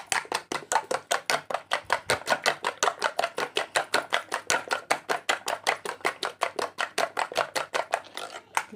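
Eggs beaten with ginger paste for Telangana street-style fried rice, a fast steady rhythm of sharp whisking taps against a bowl, close and evenly paced for several seconds with no talking.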